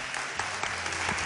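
Audience on the Castilla-La Mancha TV studio show El Patio gives an ovation for former bullfighter turned designer Cristina Sánchez, a brief burst of loud, dense clapping with a few sharper claps standing out, no speech over it.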